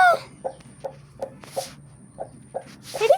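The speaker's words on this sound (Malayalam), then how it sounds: "അപ്പം ഇതാണ് ആദ്യത്തെ കോഴി" A chicken clucking close by in a steady series of short, evenly spaced clucks, with a couple of higher squawks at the start and end.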